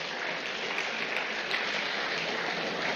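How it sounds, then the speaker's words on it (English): Audience applause at a democracy anniversary public lecture, a dense, even roar of many hands clapping that holds steady and fairly loud for about three seconds, with no voices over it. "I think they need a round of applause."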